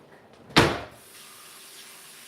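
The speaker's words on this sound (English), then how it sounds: "Just going to plop these in, give them a quick rinse with hot water" Hot tap water rinses food in a small kitchen strainer, starting as a sudden loud gush of splashing that eases into a softer steady stream running alone.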